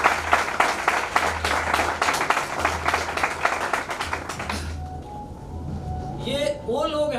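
An audience at a business celebration event in Moradabad claps loudly as top leaders come onto the stage, a dense burst of applause that fades after a few seconds, followed by a speaking voice.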